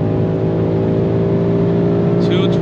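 A 2022 BMW M5 Competition LCI engine runs at full throttle, a loud, steady, deep droning roar heard from inside the car at high speed, with a voice speaking briefly near the end.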